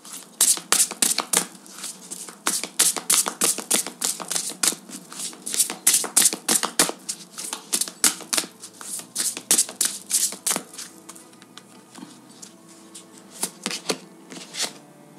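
Oracle cards being shuffled by hand, rapid riffling bursts of crisp card flicks repeating in quick clusters, close up and without speech.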